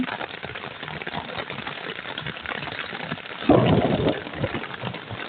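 Steady heavy rain hisses throughout, and a brief deep rumble of thunder swells up partway through before fading back into the downpour.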